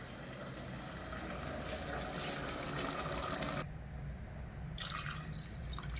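Water poured into a pot for chicken biryani rice, a steady splashing trickle that cuts off briefly and then resumes, close and fairly quiet.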